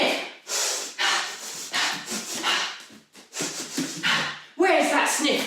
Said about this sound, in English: So every time we sniff in the air.